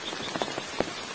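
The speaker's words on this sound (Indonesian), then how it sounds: "Ya, hujan gerimis ini lumayan juga." Light drizzling rain on a camping shelter, a steady close hiss dotted with soft pattering drops, with no voices.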